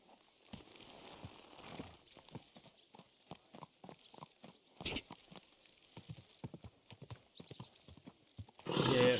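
Hooves clip-clop at a steady walking rhythm as a horse moves through Kingdom Come: Deliverance II, a medieval role-playing game, the clear close steps broken by a brief neigh and ending in a louder burst of noise.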